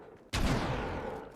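A single loud gunshot or blast in a video game starts abruptly after a short quiet lead-in, then rings out in a long, booming decay.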